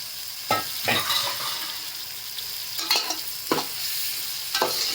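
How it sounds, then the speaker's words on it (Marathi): Marinated prawns sautéing in a pan with black masala for a prawn rice dish, a steady sizzle broken by several scraping stirs of a spatula, close and alone. "कोळंबी चांगली याच्यामध्ये परतून घ्यायची"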